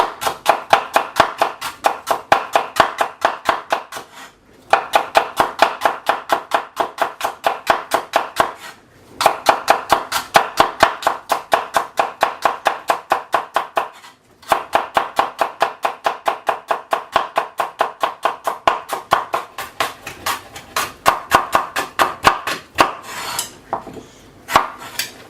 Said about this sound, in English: So here we have our carrots. I'm just going to thinly slice this.